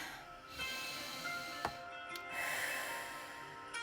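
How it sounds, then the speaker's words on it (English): A deep breath drawn in through the nose and released during a guided EFT session, with soft, close airy inhales and exhales and a brief sharp sniff, no talking. "Take another deep breath"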